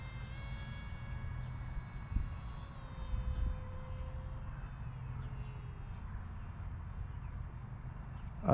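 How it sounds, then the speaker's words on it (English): A small black RC model airplane, a ZOHD Sonic Modell Sky Hunter, glides overhead with its motor off, leaving only a faint, thin whine and airy wind noise that hold steady throughout. "That's a nice flying plane right there."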